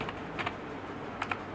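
Keys clack on a computer keyboard as C code is typed, a few quick soft taps in two brief clusters, quiet and close.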